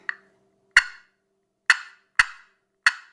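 A friction turkey call worked with a striker gives five sharp, abrupt clucks imitating a turkey, spaced irregularly with silence between, close and clear.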